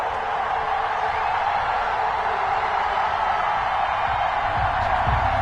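Steady stadium crowd roar from an EA Sports NFL video game broadcast ahead of a Dallas Cowboys versus Kansas City Chiefs matchup, a dense continuous wash of cheering at a constant level with a few low thumps near the end.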